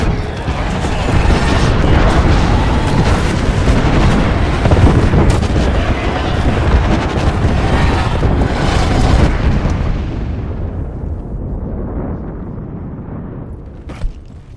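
Heavy artillery barrage in Apex Legends, a dense run of loud booming blasts and rumbling impacts that carries on for about ten seconds before easing into a fading rumble, ending on one sharp late crack.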